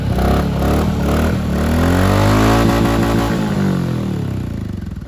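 A motorcycle engine runs loud and close on a high Himalayan mountain pass, a steady thick roar with rough clatter and slight rises and falls in pitch, holding throughout with no speech.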